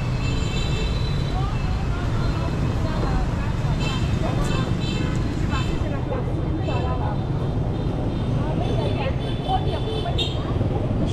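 Busy street traffic in central Hanoi: a continuous roadway rumble of passing vehicles, with scattered high horn toots and beeps, while voices talk nearby.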